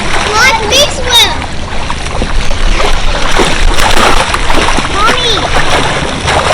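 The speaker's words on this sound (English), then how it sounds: "Watch me swim!" A child splashes and swims in a large hotel pool in Sarasota, Florida, with loud continuous splashing and sloshing water close by and children's excited voices shouting over it.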